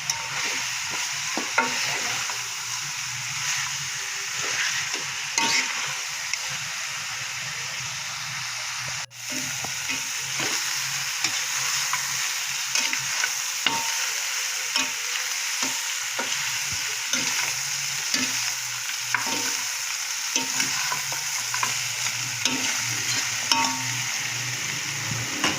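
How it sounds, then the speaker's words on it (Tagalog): Native chicken adobo frying in its own rendered fat, a continuous close sizzle and crackle with occasional stirring scrapes and clicks, no talk. "natutuyo na siya. Halos napiprito na siya sa kanyang"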